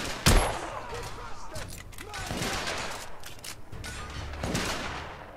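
Gunfire rings out in The Order: 1886, a sharp close shot followed by scattered rapid bursts of shooting in a fierce firefight, moderately loud amid battle noise.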